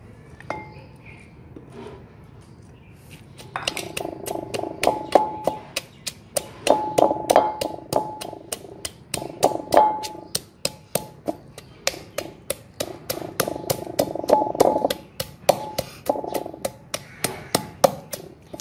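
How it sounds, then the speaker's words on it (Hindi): Steady, rhythmic pounding of a pestle in a mortar crushing red onions for chutney, sharp repeated thuds close by after a quiet start, with no talking. "प्याज़ों को हमने अच्छी तरह से कूट लिया है"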